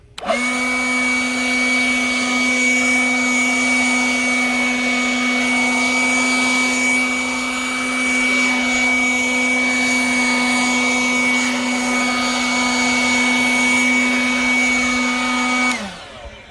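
A Ryobi P2109VNM leaf blower runs steadily for about fifteen seconds, a loud close whine with a strong fan drone, sweeping a freshly cut lawn before winding down at the end.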